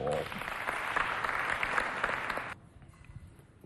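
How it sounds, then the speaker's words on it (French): Audience clapping at a community youth holiday event, a dense burst of applause that carries on for a couple of seconds and then cuts off abruptly, leaving quiet room noise. "On les applaudit bien fort."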